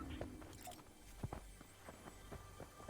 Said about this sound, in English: there were footsteps close by